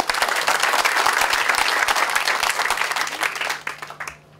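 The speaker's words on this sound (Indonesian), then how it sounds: "Tepuk tangan untuk kita semua." Audience applause at the opening of a 2015 youth management training event in Manado, a dense, even burst of many hands clapping together that holds steady and then tapers off near the end.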